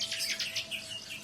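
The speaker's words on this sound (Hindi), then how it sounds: "पेड़ों से आ रही चिड़ियों के चहचहाने की आवाज" Birds chirp and tweet from trees in a quiet morning setting, a run of quick bright repeated calls filling the short stretch at moderate distance, with no talking.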